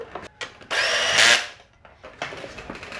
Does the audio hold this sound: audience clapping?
no